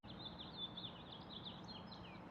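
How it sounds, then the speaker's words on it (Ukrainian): Birds chirp and trill softly over a faint, steady background hum, with quick high calls repeating throughout. "Чуєте, як співають пташки?"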